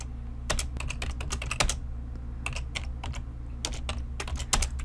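Steady, close typing of VBA code on a computer keyboard, with quick clusters of crisp key clicks, a few short pauses and a low hum in the background.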